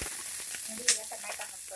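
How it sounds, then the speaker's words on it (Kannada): Chicken masala for nati koli bassaru sizzles in a pan, a steady bright frying hiss with light stirring scrapes, close and continuous over a brief moment. "ಚೆನ್ನಾಗಿ ಫ್ರೈ ಆಗಲಿ."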